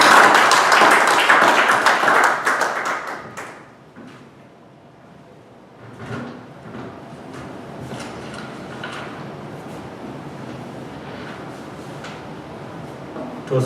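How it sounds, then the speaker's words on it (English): Dense, loud applause from a Toastmasters meeting audience welcoming a first-time speaker to the stage for his icebreaker speech. The clapping fills the first few seconds and then quickly dies away, leaving quiet room sounds and scattered taps. "Welcome and give a great applause"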